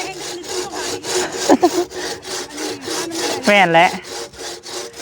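A hand saw cuts wood while a house is being built, giving rhythmic back-and-forth strokes, loud and close, with a brief voice over the sawing.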